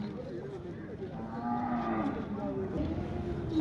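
Cow at a livestock market lowing in several drawn-out moos over steady crowd murmur, the calls moderately close and rising in the middle of the stretch.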